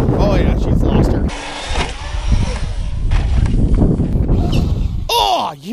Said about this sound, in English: Oh, you hear that? That was gears